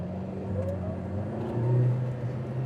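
Lotus Emira turbo accelerating in reverse on a wet surface, a moderate engine whir that rises in pitch and swells briefly before settling, with no voices.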